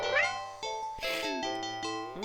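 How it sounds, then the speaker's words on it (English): A cat meows several times in quick succession, close and fairly loud, with tonal rising and falling calls. "Meow. Freaking cat."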